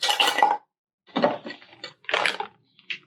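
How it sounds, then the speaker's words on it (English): Big ice cubes drop into a Starbucks cup in three separate bursts of clinking and rattling, close and fairly loud, with a short clink at the end. "we're going to put more ice in our cup here"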